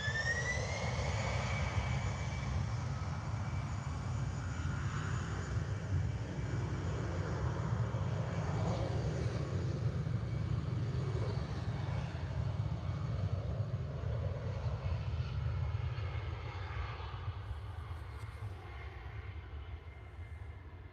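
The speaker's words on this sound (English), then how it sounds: "And there we go, nice rotation off the end of the runway there." A fixed-wing airliner rolls down the runway and lifts off at Liverpool Airport, its engine roar steady and loud throughout, with a rising whine and a long, broad rumble as it climbs away.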